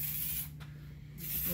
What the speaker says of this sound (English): Bit of silicone spray to make it all shiny